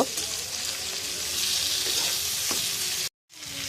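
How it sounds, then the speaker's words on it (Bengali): Prawns fry lightly in a little oil in a kadai, giving a steady broadband sizzle with a few faint stirring clicks; the sound cuts out briefly near the end, then resumes. "কড়াতে অল্প পরিমাণ তেল দিয়ে দেব এখানে চিংড়ি মাছগুলোকে কড়াতে দিয়ে দেব মাছগুলোকে হালকা করে ভেজে নেব"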